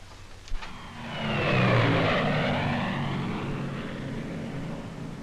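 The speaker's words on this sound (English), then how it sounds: "The camera ship is called an F-5, a special P-38 stripped of all guns and armor plating" A P-38 fitted out as an F-5 camera ship, stripped of guns and armor, drones overhead in flight, its engine roar swelling to a peak and then holding a steady, loud hum.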